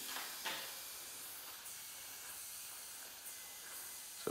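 Air escapes from a tubeless mountain bike tyre at about 30 psi, set up with duct tape, as a faint, steady hiss with a few brief louder puffs, close and quiet.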